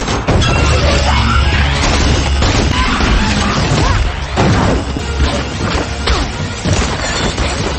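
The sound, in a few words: church wall exploding in a film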